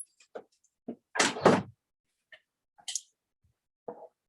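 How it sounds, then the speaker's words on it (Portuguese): A household door is unlatched and swung open to let a small dog in: a few sharp clicks, a louder double thunk of the latch and frame, then scattered light knocks and taps. "eu tenho que abrir a porta aqui pro meu cachorrinho"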